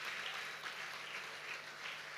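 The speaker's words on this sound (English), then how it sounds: "Please, a round of applause." Conference audience at a trading seminar applauding, a steady, even wash of clapping from a sizable crowd, heard at moderate distance with no voices over it.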